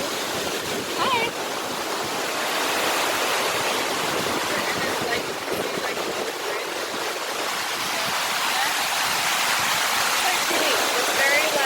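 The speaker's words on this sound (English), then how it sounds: "So we found the start of the waterfall in Smoo Cave." A waterfall inside Smoo Cave in Scotland, a steady, dense rushing roar of falling water close by that fills the whole scene, with occasional faint voices beneath it.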